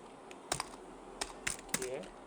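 Keys on a computer keyboard clack in short irregular bursts while someone types text into a Word document, close and fairly quiet with pauses between strokes, no talking.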